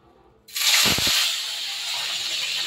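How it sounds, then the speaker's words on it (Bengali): Katla fish paturi wrapped in pumpkin leaves dropping into hot mustard oil, a sudden loud sizzle that bursts in and then settles into a steady, continuous hiss of frying. "এটা কিন্তু পুরো সর্ষের তেলেই করবো আমি। তেলটা গরম হয়ে গেছে"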